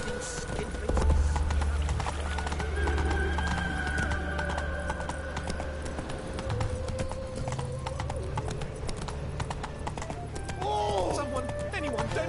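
Geralt's horse Roach gallops in The Witcher 3, a steady clip-clop of hooves running close by, with a brief whinny. A voice speaks over the hoofbeats now and then, with quiet game ambience underneath.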